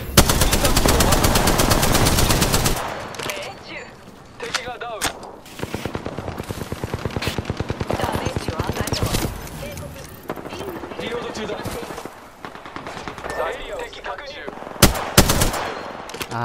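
Rapid bursts of automatic gunfire from the PS4 version of Apex Legends, loud and dense, with short pauses and repeated volleys mixed with game effects while a voice talks over the action.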